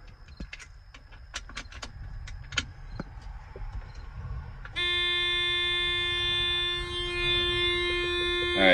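A steady electronic alarm tone sounds inside the cab of a John Deere 9500 combine, starting abruptly after a few scattered clicks and holding loud and continuous to the end.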